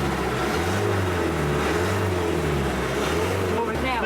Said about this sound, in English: give us some revs, Jim.